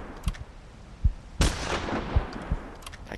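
A sharp gunshot rings out in the hunting video game Hunting Simulator, aimed at a fox, followed by a decaying tail amid several softer thuds and knocks spread across a few seconds.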